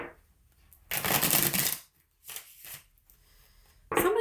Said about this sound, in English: I'm putting these cards back, but I'm going to put these cards back